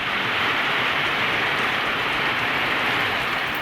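Heavy rain pours in a Tamil Nadu town, a dense, unbroken hiss of downpour at steady loudness throughout, with no voices.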